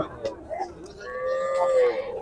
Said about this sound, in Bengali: খুবই সুন্দর একটি গরু পঁচাশি হাজার টাকা বিক্রি হয়েছে